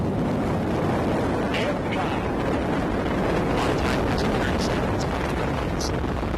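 The Artemis II rocket's engines rumble from about three and a half miles away in a broad, steady roar that crackles continuously, with faint voices underneath.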